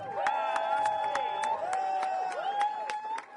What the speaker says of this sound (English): Give a round of applause for Ashley Marie Preston.